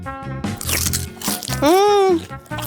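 Pocky sticks dipped in sauce crunch between the teeth in a few crisp bites, mixed with a voiced, humming exclamation and background voices.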